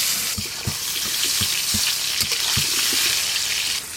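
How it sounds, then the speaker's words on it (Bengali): Potatoes seasoned with salt and turmeric fry in hot oil with a loud, close, crackling sizzle, punctuated by regular rhythmic scraping knocks of stirring. "মাংসের জন্য আলুগুলো একটু লাল লাল করে ভালো করে ভেজে নেব।"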